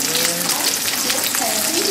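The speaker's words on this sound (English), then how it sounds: "I'm just going to kind of slowly turn them so that all of the sides have just a little bit of browning on them" Spanish meatballs (albondigas) brown in hot frying oil, a loud, dense, steady crackling sizzle, close up and continuous with no break.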